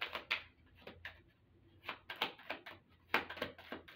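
Tarot cards being shuffled by hand: a series of quick, crisp riffling and slapping bursts in irregular rhythm, close and fairly quiet, with no voice.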